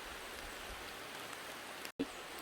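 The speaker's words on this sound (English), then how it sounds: "Well, rain a come down here now." Steady rain falling at a road construction site in Jamaica, a continuous soft hiss of drops on the ground, evenly spread throughout with a brief dropout near the end.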